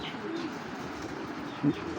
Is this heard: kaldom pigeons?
yes